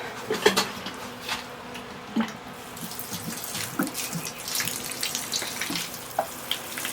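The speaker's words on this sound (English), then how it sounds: "Let me grab my water tin real quick and water those in since we just planted them." Water poured from a watering can onto freshly planted gooseberries inside a solar greenhouse, a soft splashing and trickling with scattered drips and small taps, fairly quiet and close.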